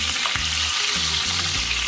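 Tomato pieces hitting hot oil while cooking Jamaican brown stew fish with snapper, giving a steady bright sizzle with low stirring clunks, close and loud with no talking.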